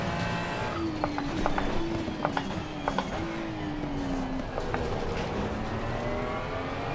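A race car engine in the racing game Assetto Corsa Competizione drones steadily at the Red Bull Ring, its pitch rising and dropping through gear shifts, with brief tyre squeals and clicks mixed in.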